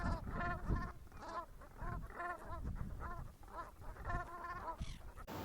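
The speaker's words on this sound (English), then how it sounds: "if you're close enough to hear a Brant, you'll definitely realize it's not a Canada goose" Atlantic Brant geese giving a series of rolling, guttural calls in repeated bursts, close and fairly loud, with several birds overlapping and no talking.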